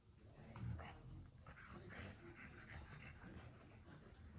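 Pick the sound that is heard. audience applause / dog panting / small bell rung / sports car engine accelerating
dog panting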